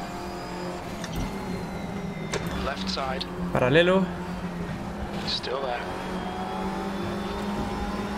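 An Audi TT race car in the RaceRoom racing game at Brands Hatch, its engine rising and falling in short revving sweeps with a louder surge near the middle, under an excited voice talking.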